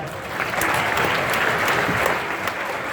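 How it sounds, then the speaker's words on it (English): Steady, dense applause from a crowd at a high school prep rally, sustained throughout at even loudness with no pauses. "Big round of applause for those guys."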